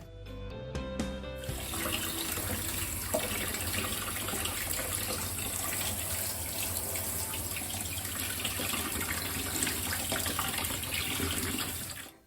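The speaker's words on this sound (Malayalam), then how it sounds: "ഊറ്റിക്കളഞ്ഞതിന് ശേഷം കുറച്ച് നല്ല വെള്ളം ഉപയോഗിച്ച് ഇതൊന്ന് കഴുകിയെടുക്കണം" Running water gushes steadily from a tap into a sink as boiled pasta is rinsed, a constant close rush that starts after a brief clatter and stops abruptly at the end.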